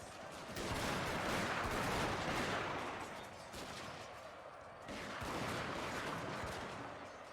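Massed unit gunfire crackles in the Shogun 2: Fall of the Samurai strategy game, a dense, continuous roar of rifle volleys that swells, dips briefly near the middle, then surges again.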